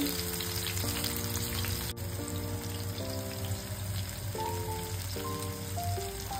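Tomatoes and four or five garlic cloves fry in a pan while punugulu are being made, a steady soft sizzle and bubbling that runs under faint, tonal kitchen sounds.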